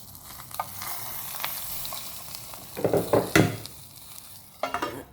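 Oil is poured over burning charcoal set beside chicken for smoking, giving a faint background hiss and then short, sharp sizzling bursts near the middle and end, close by.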